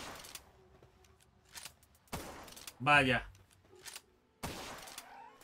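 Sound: gunfire in the video game Palworld

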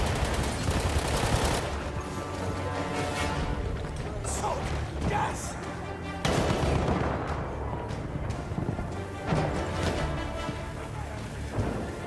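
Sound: artillery fire in Battlefield 1 (video game)

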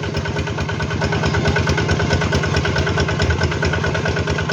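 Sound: small farm machine engine running

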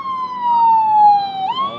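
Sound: ambulance siren passing by

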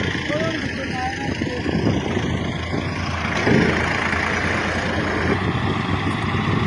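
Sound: tractor engine approaching

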